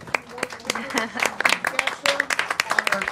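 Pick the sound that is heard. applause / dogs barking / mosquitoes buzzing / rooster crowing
applause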